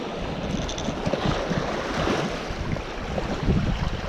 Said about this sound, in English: Now I've got a fairly strong wind here